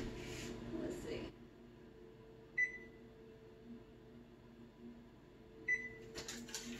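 An oven control panel being set gives two short electronic beeps a few seconds apart, with soft kitchen handling noise before and after in a quiet room.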